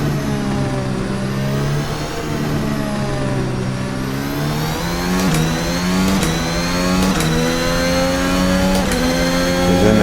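A VRC Formula Alpha race car engine screams in a racing simulator, its high harmonic whine rising and falling through repeated upshifts and throttle changes, loud and continuous with no voices.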